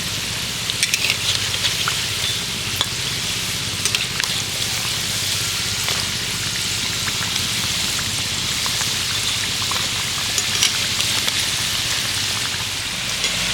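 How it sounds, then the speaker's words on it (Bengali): Palm gokul pitha cakes fry in hot oil, giving a loud, continuous crackling sizzle with scattered popping bursts throughout and no talk. "এবার আমি পিঠেগুলোকে ঠিক এইভাবে উল্টে দেব, আর উল্টে পাল্টে সুন্দর করে পিঠেগুলো ভেজে নেব"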